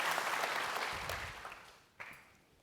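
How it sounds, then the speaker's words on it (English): Applause from a full-house audience welcoming General James Mattis at a lecture and book event, the dense clapping fading steadily over a couple of seconds, with one sharp knock near the end. "See if they're still clapping like that at the end"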